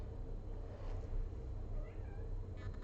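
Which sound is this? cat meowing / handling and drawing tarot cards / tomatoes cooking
cat meowing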